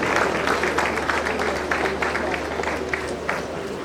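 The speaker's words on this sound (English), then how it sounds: "Can we put our hands together for them?" Audience applause at an engineering graduate membership induction and oath-taking ceremony, a steady wash of many hands clapping with a murmur of crowd voices underneath.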